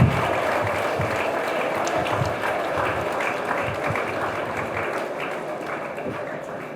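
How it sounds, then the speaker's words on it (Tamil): Sustained audience clapping at a Puducherry public function, steady and fairly close, a dense wash of many hands that slowly tapers over about seven seconds with no talk over it. "ஆண்டு பேர சொன்னோடனே கை தட்டுறீங்க"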